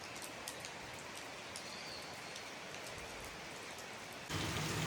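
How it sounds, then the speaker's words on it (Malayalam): Light rain falling outdoors in Kerala as a soft, even patter that holds steady, growing a touch louder and denser near the end, with no one speaking. "ചെറുതായിട്ടൊക്കെ മഴ തുടങ്ങിയിട്ടുണ്ട്"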